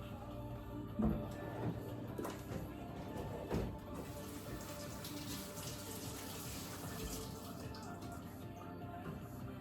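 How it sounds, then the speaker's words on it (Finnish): Running tap water at a kitchen sink while hands are washed, a steady close splashing flow with occasional louder knocks and clatters, with no speech over it. "koko ajan pitää pestä käsiä"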